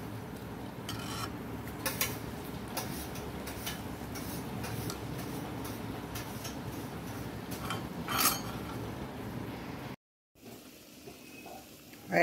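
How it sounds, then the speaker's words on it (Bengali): Luchi, a puffed flatbread, deep-fries in hot oil with a steady sizzle, broken by sharp clicks and clinks of utensils. A brief silence follows before quieter kitchen sounds. "হয়ে গেল লুচি ভাজা"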